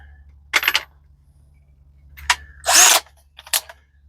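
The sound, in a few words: power drill drilling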